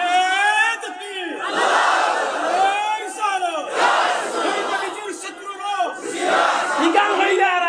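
A crowd at a sermon chants the takbir, Allahu Akbar, in loud, repeated unison waves of many voices.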